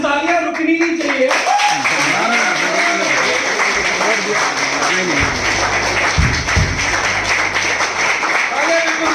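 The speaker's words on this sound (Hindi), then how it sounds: "तालियां बिल्कुल रुकनी नहीं चाहिए।" An audience at a direct-selling business event claps for a leader walking onto the stage, dense, sustained applause filling the room while a voice speaks over it at the start.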